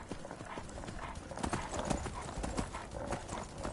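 Horse hooves clip-clop steadily while riding in the video game Skyrim, a continuous busy patter of footfalls with a brief whinny mixed in over the game's background sound.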